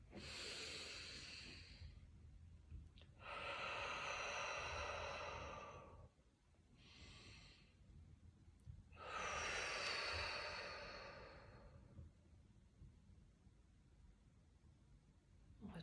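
Slow, deliberate breathing during a morning yoga exercise, four long airy exhales and inhales alternating with quiet pauses, close and soft.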